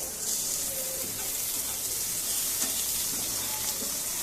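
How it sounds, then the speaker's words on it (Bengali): Dried fish fries in a pan of hot oil, giving a continuous, moderately loud hiss and crackle with a few faint clinks of stirring. "এর ভিতরে এখন আমি শুটকি দিয়ে দিব শুটকি দিয়ে তখন একটু ভালো করে ভেজে নিব"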